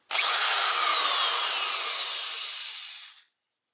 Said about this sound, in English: now I'm going to start the electric drill. By the way, it will be loud.